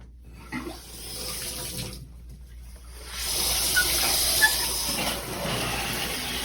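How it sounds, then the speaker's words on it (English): A NearMoon high-pressure stainless steel rain shower head sprays water in a steady, rushing hiss that fades briefly, then returns louder and fuller and holds close and constant to the end. "that is the rain shower. And man, that is excellent."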